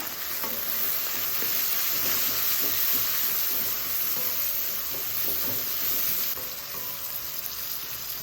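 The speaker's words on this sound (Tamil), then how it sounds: "தக்காளியும் வெங்காயமும் சேர்ந்து வதங்கட்டும் சிம்மில் வச்சு வேக விட்டுருவோம்" Tomato and onion sautéing with salt and turmeric in a pan on a low simmer, a steady close sizzle and hiss that runs unbroken throughout.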